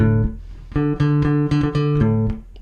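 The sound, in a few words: bass guitar played with a pick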